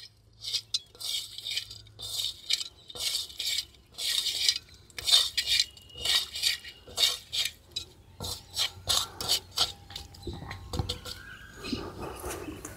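Salt being stirred and mixed into ingredients for a village-style fish fry of small dried fish, rhythmic scraping and rubbing strokes of a hand or spoon against a metal vessel, close and repeated in quick bursts.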